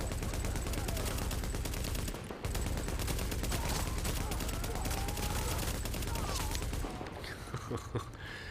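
Light machine gun fire in The Division: long, loud, rapid automatic bursts hammering almost nonstop, with a brief pause partway through and distant battle noise behind.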